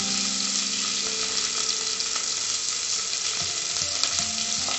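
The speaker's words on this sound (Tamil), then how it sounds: "நெக்ஸ்ட் கட் பண்ணி வச்சிருக்கிற ஆனியன் போட்டுக்கலாம்." Chopped onion frying in a pan with green chilli for venpongal, a steady close sizzle with light stirring scrapes, no voices.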